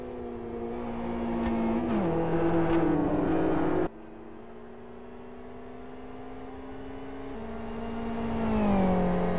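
GT2 race cars scream through a corner, their engine notes sweeping down and up through gear changes, with one loud car fading abruptly before another rises toward the end; high-pitched and fairly close.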